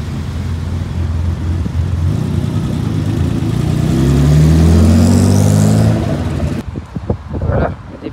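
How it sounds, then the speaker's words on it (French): An Audi R8 Spider V10 pulls away with a rising engine note that climbs through the revs, swelling loud as it passes near, then cuts off into faint rustling and scattered bumps. "Voilà le départ de cette belle Audi R8 Spider V10."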